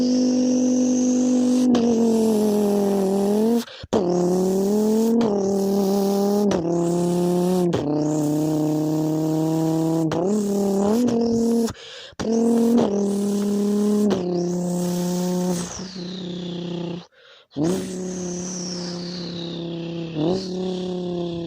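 A twin-turbo Lamborghini launches hard under launch control, its loud engine note climbing steeply in repeated surges. Brief breaks between the surges mark gear changes, and the engine howls on with no voices present.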